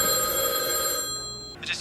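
A telephone bell rings in a scene from the 1995 film Se7en, a steady bright electronic trill sustained for most of the moment before cutting off, followed by a brief burst of noise.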